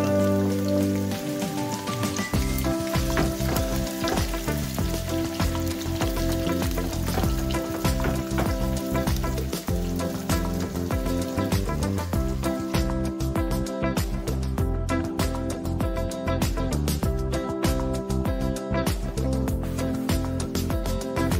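A pot of water for biryani rice rolls at a full boil, a dense, loud, continuous bubbling and rattling that carries on steadily with no voices.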